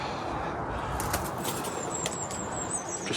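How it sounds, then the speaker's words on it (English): A pigeon's wings clatter as it takes off in an old cemetery in Guildford, with a burst of flapping over steady outdoor background noise and faint bird chirps. "Just frightened a pigeon and another pigeon."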